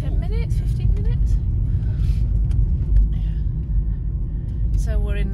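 Car traffic rumbles along a road near a rural village in the Creuse region of France, a steady low drone of passing vehicles that carries under continuous conversation and occasional birdsong.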